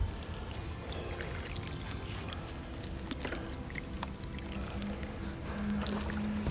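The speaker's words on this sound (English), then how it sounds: "I water it like this because that will also sterilize the seed" Water is poured onto soil in a pot holding a desert rose seed, a continuous close trickling and splashing that keeps going without pause, with no voices.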